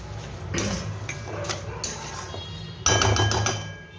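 Tomato chutney with sugar being stirred in a pan, a spoon scraping and knocking against the metal in a few clinking strokes, the loudest burst near the end, with no voices.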